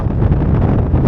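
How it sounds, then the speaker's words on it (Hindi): Strong wind buffets the microphone beside a river, a loud, constant low roar and rumble filling the whole moment with no other sounds breaking through. "और इस वक्त ऐसी तेज़ हवा है कि चस आ गई है।"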